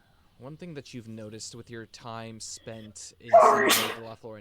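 A single loud, close sneeze bursts out right after a stretch of calm male speech at a tabletop role-playing session.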